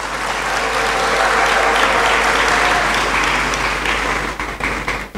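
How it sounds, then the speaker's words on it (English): Loud, sustained applause from a large audience at a university congregation ceremony in a great hall, a dense wash of clapping that holds steady for several seconds and then thins out near the end. "That loud applause was expected."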